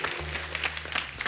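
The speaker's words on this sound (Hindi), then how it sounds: "इनके लिए जोरदार तालियां।" Applause from a studio audience at a Hindi TV comedy show, a dense steady patter of many hands, with a sustained low music tone underneath, continuing for its short length.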